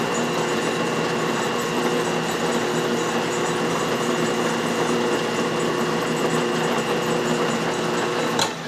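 A carbide tool cuts across a rough lead flywheel casting on a lathe to shave off a heavy burr. It makes a steady, loud, continuous grinding whir that holds for several seconds and then cuts off abruptly at the end.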